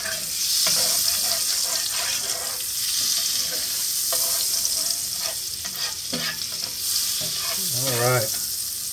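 Browned bits scraped off a pan bottom while Salisbury steak gravy fries: a steady loud sizzle with repeated scraping and stirring strokes close by, no talking.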